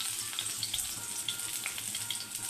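Mutton chops frying in a pan, placed in one at a time, giving a steady, fairly quiet sizzle and crackle throughout with no voices.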